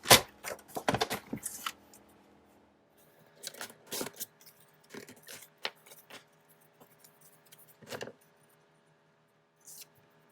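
Scissors snip through planner paper in close, irregular bursts of crisp cuts and rustles, separated by quiet pauses, with a final faint snip near the end.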